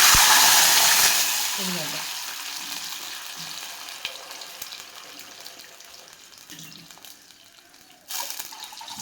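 Water poured into a hot pan of curry-leaf and mustard-seed tempering for semiya upma gives a loud burst of sizzling that quickly settles into a softer, steady fry hiss, with a brief clatter of utensils near the end.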